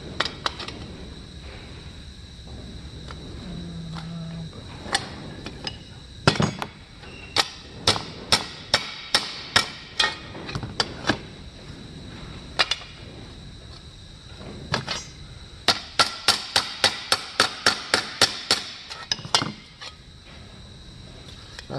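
Aluminum sheet being hammered into a curved armor shoulder bell gives sharp metallic taps, scattered at first and then in quick rhythmic bursts, close and crisp over a quiet room hiss.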